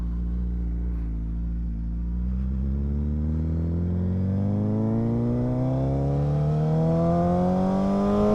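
A motorcycle pulls away from an intersection and accelerates steadily, its engine note rising in pitch through the gears, close and loud with no talk.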